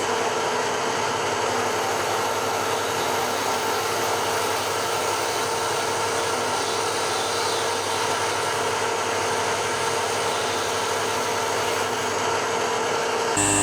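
A Bridgeport-type knee mill cuts through copper and a black plastic insulating film in a continuous, dense, even machining roar that holds steady and loud for the whole stretch, with no talking.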